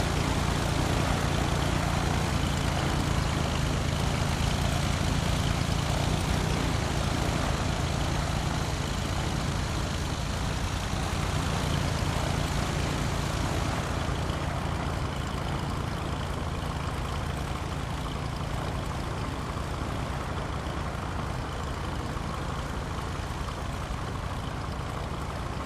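A Piper Cub propeller engine taxiing in Flight Simulator X hums steadily at low revs, a continuous droning buzz with a constant loud level throughout and no talk.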